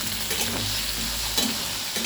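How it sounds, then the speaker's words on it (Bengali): Oil sizzles and crackles steadily as potatoes fry in a pan, a close, continuous hiss with no voices. "প্রথমে আলুগুলোকে আমি ভেজে নিচ্ছি।"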